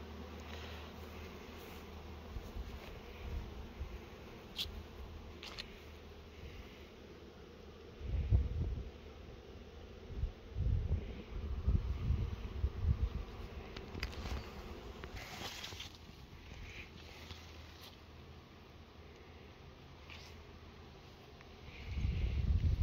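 Honey bees hum steadily at a hive in an apiary in the open air, a soft continuous buzz with occasional louder passes and light rustling.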